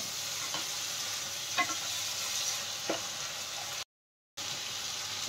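A curry base for chicken curry being sautéed in oil in a pan, giving a quiet, steady frying hiss with a few soft stirring scrapes and a brief dropout near the end, with no talk.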